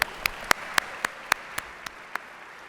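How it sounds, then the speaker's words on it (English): A few sharp, evenly spaced hand claps, about nine in a steady rhythm, ring out clearly against a quiet room at a Dr. Martin Luther King Jr. celebration ceremony, tapering slightly toward the end. "another round of applause for Mrs. Bridges."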